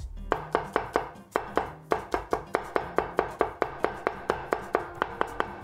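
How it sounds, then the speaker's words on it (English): A knife chops and minces four smashed garlic cloves on a cutting board in a Chinese home kitchen, a steady run of close, crisp blade taps with a few heavier thumps, no voices. "Now we'll smash and mince 4 cloves of garlic."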